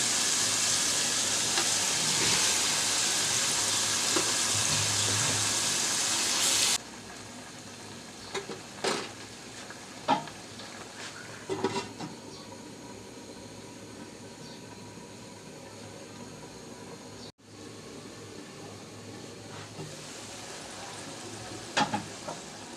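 Cabbage koftas hitting hot oil give a loud, dense sizzle for about seven seconds, then settle into a softer, steady frying crackle with occasional stirring clinks and scrapes.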